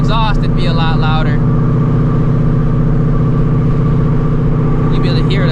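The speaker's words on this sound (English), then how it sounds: "the way everything is right now, all you hear is the exhaust" Supercharged Ford Shelby GT350 with an ESS G3R supercharger, its exhaust droning steadily and loud while cruising, a continuous low engine hum with faint higher tones at the start and end.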